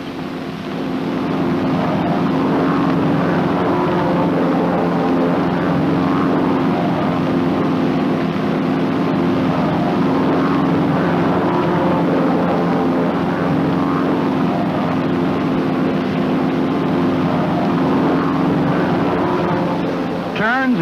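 North American T-6 Texan training aircraft flying together in parade formation give a loud, steady radial-engine and propeller drone that holds throughout, with a narrator speaking over it.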